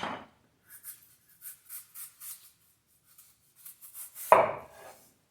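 A knife cuts a cucumber on a board in a series of soft, short strokes, then one sharper, louder chop as the bottom comes off, close and otherwise quiet.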